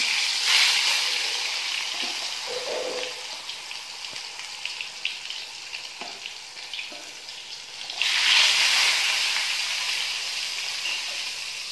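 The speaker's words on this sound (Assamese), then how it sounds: "এটা তেল গৰম হ'ল, এতিয়া বেঙেনাখিনি ভাজিম।" Brinjal fries in hot oil in a wok, making a loud, close, broad sizzle that surges at the start, settles into a steadier hiss with faint knocks, then flares up strongly again near the end.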